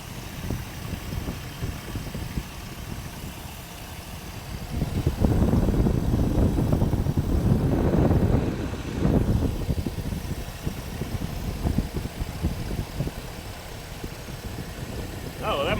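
A GM throttle body injection engine in a shop idles with its air cleaner removed, a steady low rumble that swells somewhat in the middle, with a person talking now and then.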